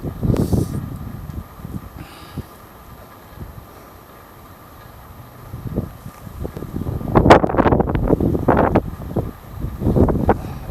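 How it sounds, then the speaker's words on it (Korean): Strong gusting wind buffets the microphone on the rocky ridge path to Uisangbong peak on Bukhansan mountain, swelling in loud rumbling bursts between quieter lulls, no speech. "바람이 몹시 부네요"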